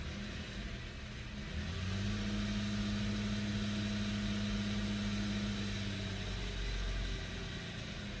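A 2012 BMW X3 engine holds a steady elevated speed around 2,000 RPM while parked in P, a continuous even hum with a constant low drone, close and unbroken, no voices.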